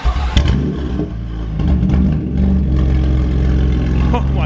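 A BMW F82 M4 fitted with an Armytrix valved exhaust, warmed up rather than cold, revs hard with a loud, raspy, close roar that rises and holds, and excited voices join in over it.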